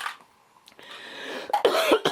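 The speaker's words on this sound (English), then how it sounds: "I'm sorry for coughing." A man coughs several times in short, harsh bursts up close, with throat rasps between them in a quiet workshop setting.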